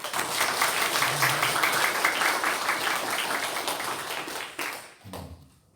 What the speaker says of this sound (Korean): 우리 큰 박수 한번 보내십시오.